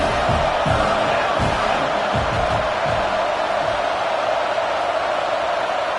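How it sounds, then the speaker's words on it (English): A football stadium crowd at a Ravens vs. Wolverines game roars and cheers as the home defense needs help, a dense, steady wall of noise throughout with a voice faintly underneath. "This crowd rising up, sensing that its defense needs some help."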